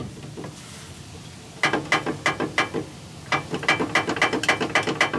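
A Jeep Wrangler's worn rear suspension control arm gives off a rapid series of loud, ratcheting mechanical clicks and creaks in repeated bursts, close by, with no talking.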